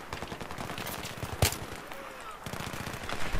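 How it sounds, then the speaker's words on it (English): Automatic gunfire in the Battlefield 3 video game rattles in rapid, rhythmic bursts with a single sharper shot near the middle, steady and fairly loud throughout. "I'm just gonna shoot them like normal people."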